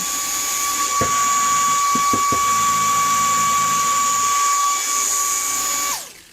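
A high, steady electric whine from a motorized fidget toy spinning fast runs loudly for several seconds with a few clicks before cutting off abruptly.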